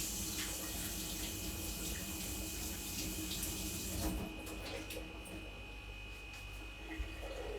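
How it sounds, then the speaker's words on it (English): Running tap water pours steadily into a kitchen sink while hands are rinsed mid-cooking, a continuous hiss that drops quieter partway through as the flow eases. "I'm just going to rinse my hands"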